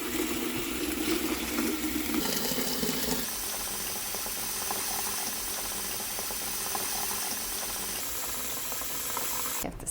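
Tap water pours steadily into a large stock pot, about twenty cups for soaking a pineapple in a home kitchen, a continuous close rushing hiss with a brief shift in tone partway through and no voices.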